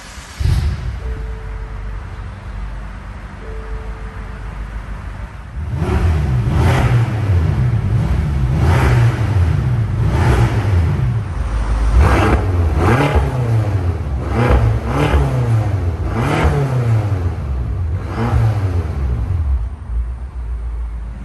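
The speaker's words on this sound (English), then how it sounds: "So let's go ahead and start up the M5." BMW F10 M5 Competition engine cranking to life after a quiet stretch, then settling and being blipped through a series of sharp, loud revs that rise and fall repeatedly, close by with no talking.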